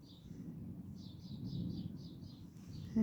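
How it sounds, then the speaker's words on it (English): Wild birds sing on a cold, snowy countryside morning, a run of about seven short, high chirps over a faint, low outdoor rumble. "It looks beautiful to see all these birds in the morning."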